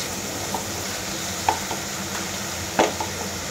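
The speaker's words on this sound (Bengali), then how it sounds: "শুটকি মাছটা একটু ভালোভাবেই আমরা একটু ফ্রাই করে নিচ্ছি" Dried loitta fish (shutki bhuna) frying and being stirred in a pan, a steady low sizzle with a few sharp scraping clinks of a utensil against the pan.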